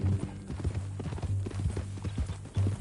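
A horse's hooves clip-clop at a steady walking rhythm in the Western video game Red Dead Redemption, close and moderately loud beneath a low steady tone, with a voice briefly heard.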